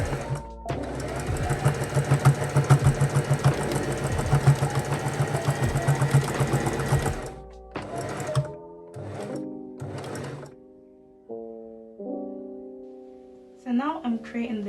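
A sewing machine stitching the seams of pajama pants runs in a fast, steady mechanical whir for several seconds, then sews in short bursts with pauses between them.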